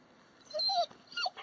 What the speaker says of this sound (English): And Macy there Boy, she's a fishing dog now. She will talk to you the whole time